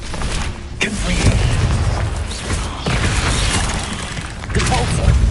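Confringo fire spell blasting in the Hogwarts Legacy video game, a loud booming burst with crackling debris and rumble that rolls on for several seconds, with a voice briefly heard over it.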